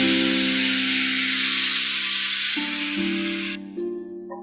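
Tamarind water for vatha kuzhambu hisses and sizzles loudly and steadily in a pan, then the sizzle cuts off, leaving a low tonal hum.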